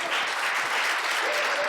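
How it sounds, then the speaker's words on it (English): Audience applause fills the room, a steady dense clapping from a crowd that holds at full strength throughout, without any voices over it. "How about a round of applause?"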